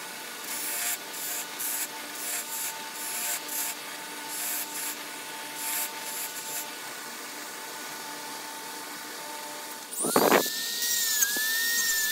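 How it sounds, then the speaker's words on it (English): Fiber wheel grinding over a metal bolt and ferrule for a rat-tail file handle, a thin, buzzing abrasive whir in repeated short passes, followed by a sharper scraping burst and a rising whine near the end. "I'm going over the bolt and the ferrule with the fiber wheel"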